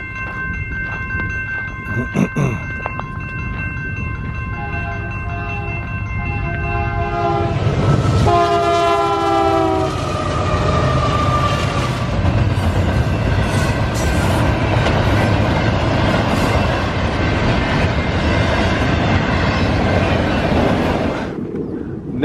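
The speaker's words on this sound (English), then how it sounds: "Well, here comes the train." A train horn blares in long sustained blasts as a train roars past near the Modena railroad ghost town, its wheels rumbling and clattering loudly for a long stretch.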